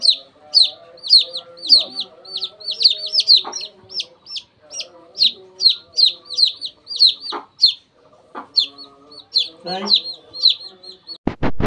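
Rapid high peeping of chicks repeats throughout, with a mother hen's lower clucks mixed in, all close and fairly loud.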